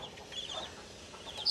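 Faint peeping of native country chicks and light hen clucking come through a quiet outdoor scene, with a slightly louder chirp near the end.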